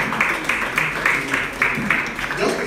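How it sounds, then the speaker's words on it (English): Audience at a broadcast media stakeholders forum press conference applauding, a brief burst of rhythmic clapping heard close and moderately loud. "Let's have a round of applause for you."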